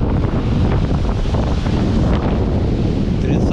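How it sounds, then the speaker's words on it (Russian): Strong storm wind buffets the microphone at the Black Sea shore in Lazarevskoye, Sochi, in winter, a loud continuous roar mixed with crashing surf. "Ужасный ветер. Сильно дует."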